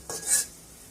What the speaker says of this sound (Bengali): আমাদের মশলাটা কষাচ্ছি